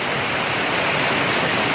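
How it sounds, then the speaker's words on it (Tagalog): Heavy rain pours down in a dense, loud, unbroken roar during a windy storm, close and continuous with no voices. "Napakalakal ng ulan."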